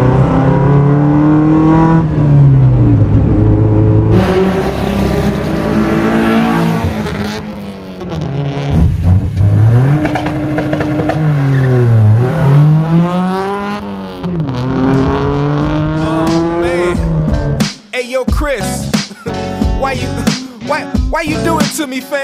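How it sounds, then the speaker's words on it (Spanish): A modified Chevrolet Spark accelerating hard, its engine revving loudly and rising through repeated gear changes, ending with a burst of squealing tires. No speech is heard. "vamos a probar en lo que es cómo se comporta un poquito el auto"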